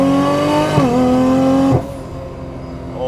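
A Nissan Skyline GT-R engine holds a steady, loud drone, gives a brief rev blip on the downshift, then drops to a lower idle-like hum.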